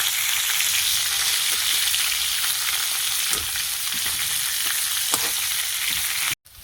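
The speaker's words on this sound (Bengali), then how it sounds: "ফুলকপিটাও ভালো করে ভেজে নেব, লাল লাল করে।" Cauliflower and potato pieces frying in oil in a pan, a loud steady sizzle with occasional utensil knocks, cutting off abruptly near the end.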